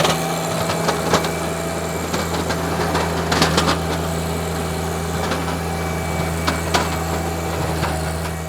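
A small garden tiller engine runs steadily at close range with a buzzing, slightly uneven drone and occasional clanks and thumps from the machine working.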